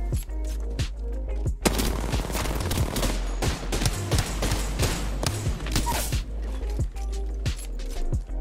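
Video game gunfire from an opposing team: dense, rapid bursts of automatic shots and sharp single cracks, loud and sustained throughout with heavy low thumps.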